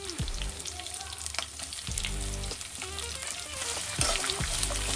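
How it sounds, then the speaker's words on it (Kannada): Chopped onions frying with masala in a pan over a low flame for a mushroom biryani, a steady close sizzle with stirring scrapes running throughout, no talking. "ಆನಿಯನ್ ಮಸಾಲೆ ಜೊತೆ ಚೆನ್ನಾಗಿ ಫ್ರೈ ಮಾಡಬೇಕು."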